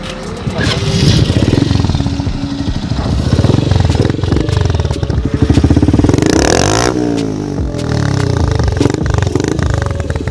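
A Honda XRM and a Rusi motorcycle, one fitted with a homemade exhaust pipe, roar loudly side by side in a friendly drag race, engines revving hard and steady with a rising whine near the end.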